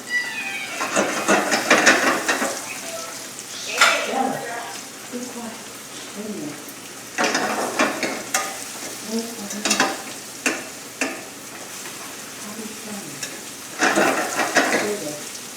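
Salmon and mushrooms sauté in a pan, giving a low sizzle under recurring bursts of scraping and stirring, while a person talks between the stirs.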